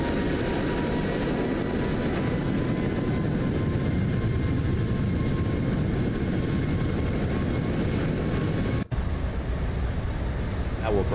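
Boeing 737 MAX 8 engines climb in Microsoft Flight Simulator, a steady, broad jet roar with a low rumble that drones on without a break except for a brief dip near the end.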